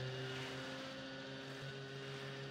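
Steady droning engine hum of vehicles racing in the survival game Last Day on Earth, a continuous motor tone with faint background noise and no speech.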